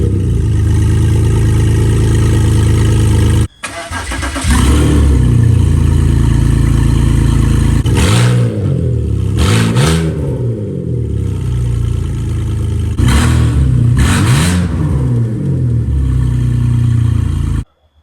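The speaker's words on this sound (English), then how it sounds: "Now we're gonna do the most important thing, which is to fire the car up and heat it with open headers." BMW X3 engine running with open headers: a loud raw idle, then repeated throttle blips that rise and drop back, with metallic clatter, heard up close with no talking.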